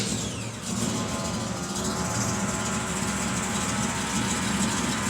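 A 1982 El Camino with a rebuilt LT4 hot-cam V8 and stock 1.5 ratio rockers runs at a steady, loud idle, a continuous close-up engine rumble with no voices over it.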